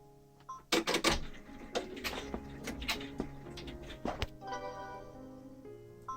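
An embroidery machine sewing a satin stitch on a quilted table runner, fast mechanical clacking and whirring bursts with pauses between runs, close and fairly quiet, no talking.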